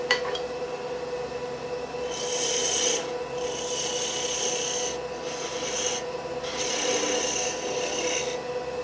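A skew chisel cuts beads on a spinning wood lathe, giving a steady rasping, shaving hiss over the machine's constant hum, with louder bursts of cutting that come and go in several passes.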